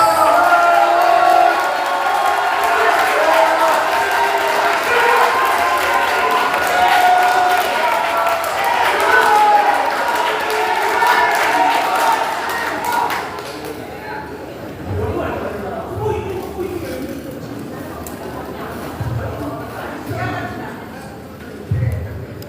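At a party rally and members' convention in Jeju, a crowd applauds and cheers loudly for about thirteen seconds before the noise drops away to quieter scattered sounds and murmur.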